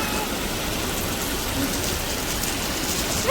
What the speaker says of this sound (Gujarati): આમ જો વરસાદ ચાલુ થઈ ગયો.